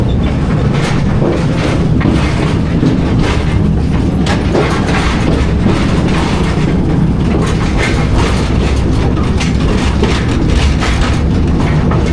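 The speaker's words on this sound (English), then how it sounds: "Once the train comes to a complete stop" A loud, close train rumbles continuously with rhythmic clattering of wheels over rail joints and a heavy low roar.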